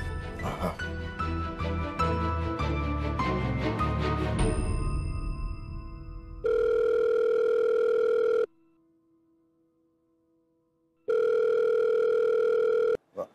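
A telephone ringback tone sounds in the Marathi TV serial Yeu Kashi Tashi Me Nandayla. Swelling background music comes first, then two long, steady electronic tone bursts separated by a stretch of near silence.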